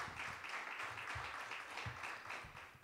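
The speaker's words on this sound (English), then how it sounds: "So give yourselves a round of applause." A lecture audience gives sustained applause that sounds faint and distant, a steady wash of clapping with a few low thumps or murmurs underneath.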